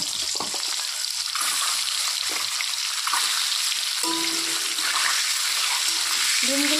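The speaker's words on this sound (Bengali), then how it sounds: "তেল গরম হয়ে গেছে, এখন ডিমগুলো এক এক করে ছেড়ে দেব।" Eggs dropped one at a time into hot oil for an egg curry, frying with a loud, steady, close sizzle and crackle that fills the whole clip, with faint stirring beneath.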